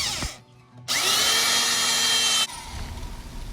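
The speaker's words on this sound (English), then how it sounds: "So you see me pre-drilling the hole and then I go back and screw it in with a screw." A power drill whirs loudly for a couple of seconds as it pre-drills into wooden ceiling framing inside a Ford Transit Connect van, then stops, leaving some faint rustling and handling noise.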